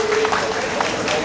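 Applause from an audience welcoming lawmaker Choi Seung-jae at a national memorial for COVID-19 vaccine victims, a steady dense patter of clapping filling the short stretch, with voices mixed underneath.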